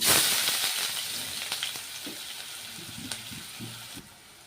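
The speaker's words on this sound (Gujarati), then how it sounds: "લવિંગ બાદિયા અને તજપતું મેં એડ કરેલું છે એક ત્યારબાદ ડુંગળી" Onion sizzles in hot oil with cloves, star anise and cinnamon, a steady close hiss with faint stirring clicks that softens toward the end, no voice heard.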